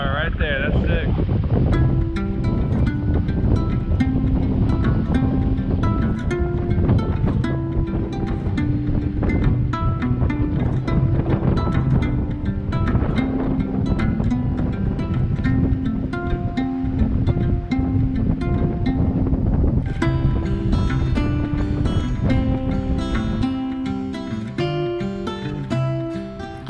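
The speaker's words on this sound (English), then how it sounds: "A lovely sail on a lovely yacht." A sailing yacht moves under wind power, with steady wind buffeting and water rushing along the hull throughout, under music that plays over the whole passage.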